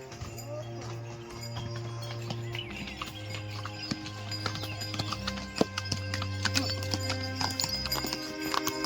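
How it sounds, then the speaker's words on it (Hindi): Hooves of pack horses carrying heavy bags on a mountain trekking trail in Uttarakhand, loud rhythmic clip-clop close by with occasional neighing, a voice briefly audible beneath. "सफ़र के दौरान हमें रास्ते में कई घोड़े पीठ पर भारी बैग लादे हुए दिखाई दिए।"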